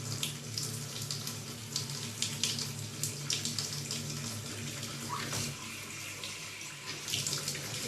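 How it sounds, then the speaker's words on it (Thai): Filtered water runs steadily from an eSpring water filter tap, a close, even splash and hiss that continues for several seconds with a faint low hum underneath. "อันนี้ก็ือจะเป็นน้ ำที่ผ่านการกรองมาเรียบร้อยแล้วนะครับ"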